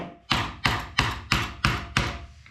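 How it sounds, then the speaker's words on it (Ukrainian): A screwdriver knocks washers off a motorcycle shock absorber spring on an Aprilia Pegaso 650: six sharp metallic strikes at an even, roughly one-per-third-second rhythm, close and loud, with no talking. "Відповідно, коцаємо викруткою ці шайби."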